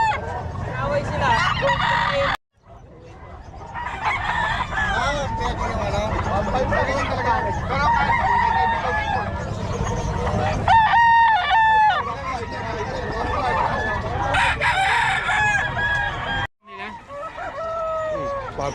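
Several fighting roosters crow and cluck among the fowl of a cockfighting gathering, with crowing rising loudly more than once over a busy crowd babble of people talking nearby.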